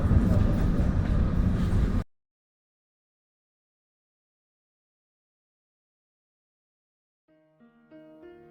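A train runs along a line in Sicily, a loud, close rumble of wheels and carriage noise lasting a couple of seconds before cutting to silence and then soft music.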